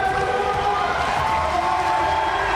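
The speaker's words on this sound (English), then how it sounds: "Crowd are loving it." A crowd roars and cheers steadily at a skateboarding final in Tallinn, Estonia, a dense, loud wash of voices with whistling tones running through it.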